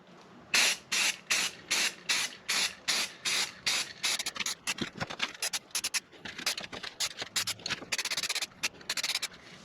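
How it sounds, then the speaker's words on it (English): Spray paint hisses from an aerosol can onto a metal cover in a long series of short, close bursts, about a dozen evenly spaced sprays at first, then quicker, choppier ones, with no talking. "make sure I got a good spray."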